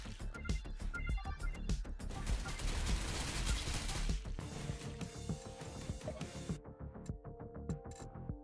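Gunfire in the video game Survivors of The Dawn, a quiet continuous stream of rapid shots and impacts layered over a dense, busy game soundscape with a low throbbing hum.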